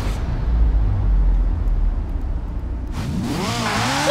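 A Lego Speed Champions race car in Forza Horizon 4: a steady engine drone runs for about three seconds, then the engine revs up hard with rising, sweeping tones. The sound is fairly loud and close, with no talk.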